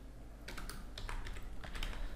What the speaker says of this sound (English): and then I'm going to type out like